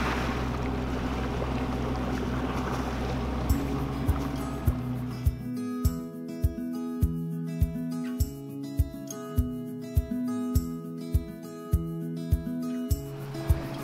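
Sailboat under way at sea on an overnight Pacific passage to Huahine: wind and water wash for a few seconds, then a regular thumping beat with tonal hum, like rigging or hull knocks, repeating about once a second.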